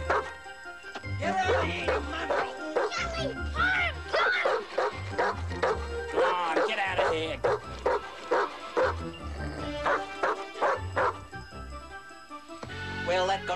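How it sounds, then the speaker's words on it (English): A dog barks, yips and whimpers repeatedly in a TV drama scene. The barking is loud and continuous throughout, with some voices mixed in underneath. "Never mind the dog."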